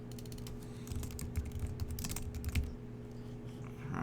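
Text being typed on a computer keyboard, a quick run of soft, close key clicks in irregular bursts over a low background hum, then a tapering pause near the end.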